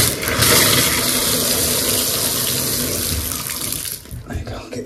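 Bath tap running hard as water comes back on after plumbing work, with a loud steady gush and sputtering as trapped air purges from the pipes, cutting off near the end.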